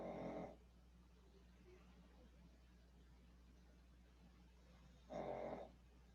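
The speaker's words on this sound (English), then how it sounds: "if you hear some snoring in the background, I have a pug dog and she just snores" Pug dog snoring in the background of a quiet room, two faint separate snorts about five seconds apart over a low steady hum.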